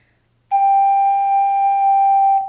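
A single straight ocarina note, held steady without vibrato for about two seconds, clear and close with nothing else around it.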